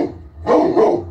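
A small dog gives a single loud, close bark with a brief growly tail, heard alone with no talking.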